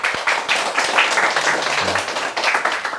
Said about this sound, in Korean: 106기 문문관 수련생들 나왔는데 박수 한번 쳐주세요